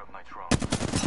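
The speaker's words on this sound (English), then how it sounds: "Shots fired and you're hitting me." Rapid machine-gun fire in the video game Fortnite bursts in abruptly after a quiet moment, a loud, dense rattle of shots that continues to the end.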